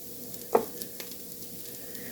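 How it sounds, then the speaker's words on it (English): Jicama home fries seasoned with paprika and salt are stirred in a frying pan, giving one brief utensil scrape against a soft, steady sizzle. "Let's stir this around a little bit."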